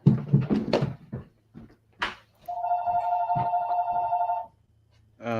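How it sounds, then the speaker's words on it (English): Telephone ringing in one sustained electronic ring of about two seconds, clear and close, surrounded by clunks and knocks from handling before and after. "Shoot, my phone's ringing."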